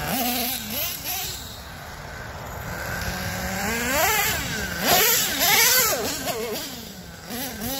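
A Red Cat Earthquake 3.5 nitro RC truck engine revs in rising and falling buzzy surges, loud and close, sputtering slightly between bursts.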